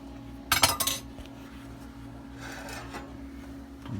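A utensil scrapes and rasps against a pan while the last of a balsamic vinegar glaze is worked out onto a slow-cooked pork tenderloin, a short, close burst of metallic scraping followed by a fainter second scrape over a low background hum.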